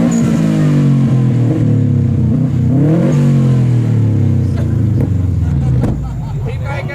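Turbocharged car engine revving hard at a flame-shooting car event, a loud rising and falling roar with sharp crackles near the end, heard under excited voices of people talking over it.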